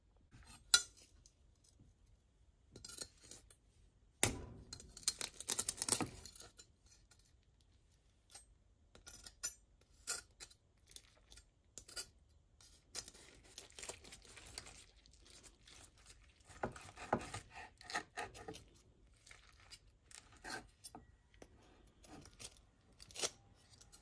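Home-cooked lechon belly, roast pork belly, being cut with a knife: faint scattered crunching and scraping strokes that come in short bursts with pauses, a louder crackly cluster early on, close and quiet.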